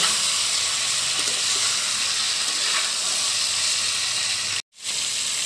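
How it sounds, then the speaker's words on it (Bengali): Raw mango pieces sizzle steadily in hot oil with five-spice seasoning, a bright continuous frying hiss that cuts out abruptly near the end before resuming. "আমগুলো অ্যাড করে দিচ্ছি। এগুলোকেও হালকা করে ফ্রাই করে নেব।"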